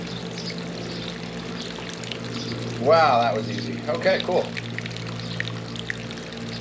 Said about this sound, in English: I'm gonna use the drain plug here to get, well, most of the water that's out